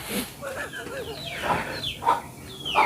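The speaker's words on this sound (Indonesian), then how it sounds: "Ada ayam kecil, ada maknya. Kenapa misah sih jadi jauh-jauhan suaranya?" Several chickens cluck and chirp at a moderate distance, with higher peeping calls mixed among the lower hen clucks in irregular bursts.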